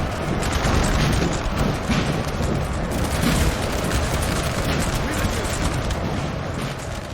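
Musket volley fire in the video game Napoleon Total War: dense, continuous crackling volleys and rumbling booms from a large battle, sustained and loud throughout.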